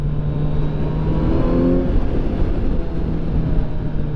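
Kawasaki Z900 motorcycle pulling hard in third gear from about 4,000 RPM, a steady loud engine drone with a rising harmonic mid-clip, continuous for a few seconds without talk.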